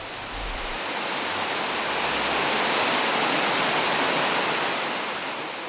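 The Elbe waterfall high in the mountains gives a steady, dense roar of falling water that stays even throughout, heard close with no other sounds.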